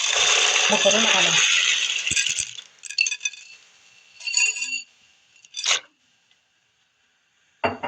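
A kilo of dry macaroni is poured into a pot of boiling water, making a dense rattling cascade for about two seconds, followed by scattered clinks and small shuffles before falling quiet. A brief voice is heard.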